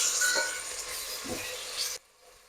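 Ginger garlic paste hits a hot pan for chicken biryani, giving a steady close sizzle and frying hiss with a light stir that stops abruptly near the end.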